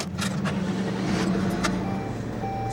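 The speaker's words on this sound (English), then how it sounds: "the car turned on pretty smoothly" A Saab 9-3 car engine starting after its ECM was reinstalled, with a loud steady engine rumble close by and a few brief mechanical clicks over it, and no talk.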